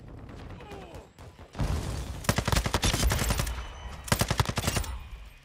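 A Sakin MG38 machine gun in Call of Duty MW2 fires in two rapid, loud bursts of rattling shots, the first about two seconds long and the second shorter, with quieter game sounds between them.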